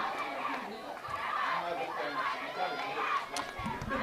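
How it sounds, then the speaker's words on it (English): A crowd at a high school softball championship game cheers and chatters on the Bingham side, a loud, continuous wash of many voices with a few sharper shouts. "Not sure how much of the cheering the camera is picking up, but I'll tell you, it is loud on the Bingham side."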